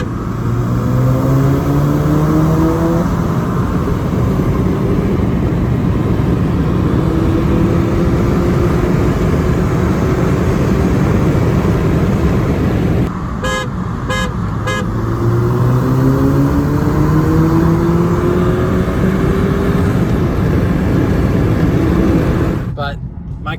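A Volkswagen Mk6 GTI with a Unitronic intercooler accelerates hard in a race against a BMW 430, engine note climbing through repeated rising sweeps as it shifts, loud and steady with a brief gap near the middle.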